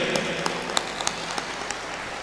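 An audience claps for children at a Tamil Nadu Day cultural program. The applause is faint and thin, with scattered sharp claps standing out over a soft wash of clapping.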